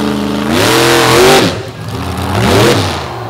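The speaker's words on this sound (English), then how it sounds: "Huge launch, but the rear end comes apart." The Stone Crusher monster truck launches at a beach show with a loud engine roar that surges, dips, then revs up again in a second burst close by.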